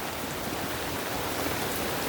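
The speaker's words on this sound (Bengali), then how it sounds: "বাইরে প্রচুর পরিমাণে বৃষ্টি হচ্ছে" Heavy rain pours down steadily outside a farm, a dense, even hiss of drops that fills the whole clip without pause and with no voices.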